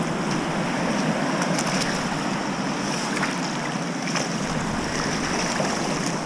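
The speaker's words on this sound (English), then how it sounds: "let's see if I can get these rinsed off without filling my boots full of water" Razor clams rinsed off in seawater on the surf line at Copalis Beach, heard as a steady, dense wash of water and surf with wind buffeting the microphone throughout and no talking.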